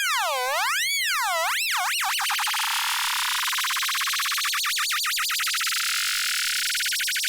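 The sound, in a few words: synthesizer with LFO routed to oscillator pitch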